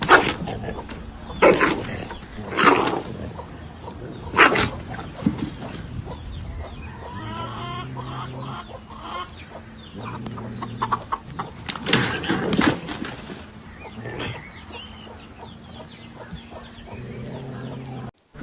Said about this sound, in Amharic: ዶሮ ውሻን እንደዚህ ሲያፋጣ ይቻላል።